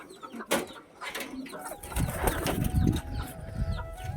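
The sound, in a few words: pigeons released from loft, cooing and flapping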